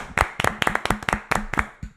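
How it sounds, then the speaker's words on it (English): A single person claps hands about eight times in a quick, steady rhythm, sharp and close, in celebration of the Atlanta Falcons during an NFL team-ranking show. "Round of applause for them Falcons."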